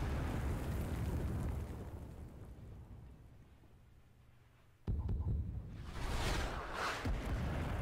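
A grenade detonates in the Vietnam War shooter Rising Storm 2: Vietnam: a sudden heavy boom after a fading low rumble, followed by a loud rolling, crackling blast tail.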